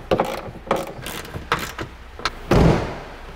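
Hand ratchet tightening a bolt on a car hatch, a series of short sharp clicking bursts close by, ending in a louder thud-like clunk that rings out.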